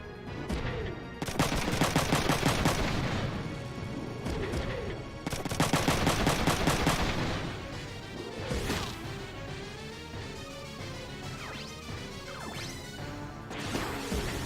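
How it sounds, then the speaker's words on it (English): Bursts of machine gun fire ring out in the Front Mission 3 mech battle, loud and close, with rapid clattering volleys in two dense clusters and crashing impacts and game effects between them; no one talks. "We can react to the machine gun."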